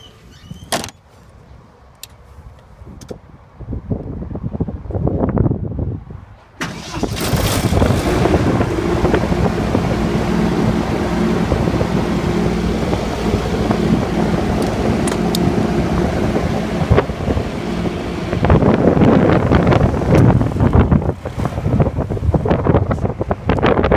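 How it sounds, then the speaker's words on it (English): Strong gusts on a rooftop where a portable welding truck is working in Edmonton buffet the microphone, starting with a quieter stretch and a few knocks, then roaring continuously in loud rumbling waves. "so pretty windy up on the roof"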